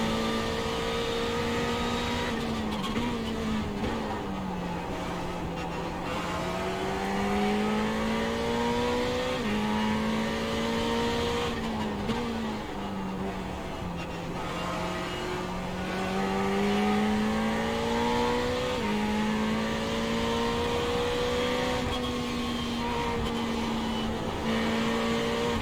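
Ferrari race car in a racing game at Watkins Glen, its engine wailing loudly and continuously throughout, pitch rising and dropping through gear changes and corners, with no voices over it.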